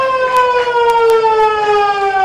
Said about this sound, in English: And this will be after the siren.